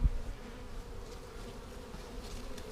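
A swarm of bees buzzes steadily and close by around a tree, a dense continuous drone with slight swells in loudness and no voices.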